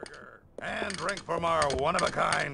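Creaking, ratcheting mechanical mouth of a character flapping in the PC game Escape From Monkey Island, clicking and grinding steadily under a talking voice for the whole stretch.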